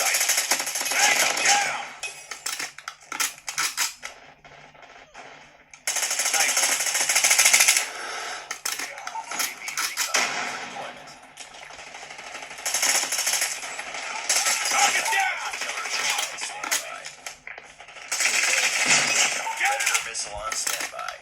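Call of Duty Mobile gunfire on a POCO F7 phone, with rapid automatic bursts and loud shots in dense, sustained clusters that pause briefly between fights, with game voices calling out.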